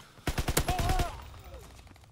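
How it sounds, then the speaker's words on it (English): A rapid burst of automatic gunfire from a shooting video game rattles out in quick succession, sharp and close, then fades as a voice murmurs underneath. "Is that my teammate shoot at me?"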